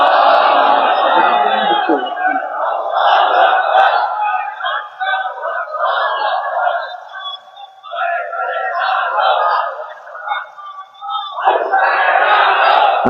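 A vast crowd at a religious sermon gathering in Beanibazar, Sylhet, roars takbir chants in unison, loud and near, in sustained surging waves with short dips between calls.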